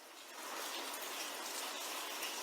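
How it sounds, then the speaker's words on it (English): Soft, steady hiss of rain, broadband and even, swelling slightly at the start then holding constant and quiet. "This is just rain and then the ocean."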